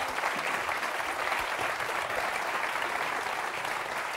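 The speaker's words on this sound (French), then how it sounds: "Le public vous applaudit, vous remercie d'être venu jusqu'à nous." A TV game-show studio audience breaks into sustained applause, steady and dense throughout, with no talk over it.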